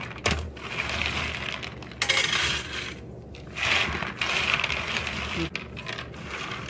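Raw peanuts poured and tipped into a container for washing, producing dense clattering, rattling bursts of nuts hitting the vessel and each other in several close, loud pours separated by brief pauses.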